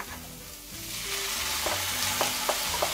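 Red lentils hit a hot pan with a loud, rising sizzle, followed by a few soft clinks of stirring over steady frying crackle.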